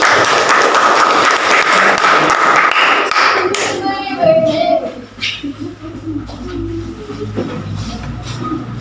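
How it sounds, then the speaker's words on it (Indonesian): Classroom students clap for a presenting group during a school science lesson, a dense burst of applause for about three seconds that fades into scattered taps, murmurs and background chatter. "tepuk tangan untuk kelompok 2"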